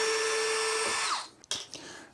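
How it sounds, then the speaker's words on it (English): A power drill whines at a steady pitch removing screws from an electric unicycle, then spins down and stops, followed by a few small clicks and clatters. "Sometimes it's easier to take them out with a power drill"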